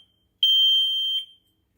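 A steady high-pitched tone from a MIMIC Model Bz continuous electronic buzzer sounds for under a second, then cuts off, with another burst starting right at the end.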